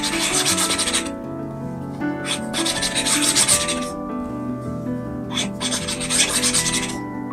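A Faber-Castell Ambition walnut fountain pen with blue ink scratches across paper in three close, loud bursts of rubbing strokes separated by short pauses, with no voices.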